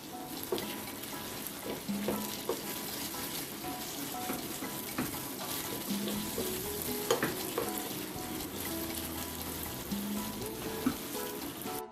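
Tempering for South Indian appe sizzles gently in a pan over a low flame, a soft, steady crackle and spatter with occasional stirring scrapes, fairly quiet and without talk.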